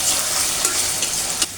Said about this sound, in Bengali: আলুর সাথে এটা ভালো করে ভেজে নেব।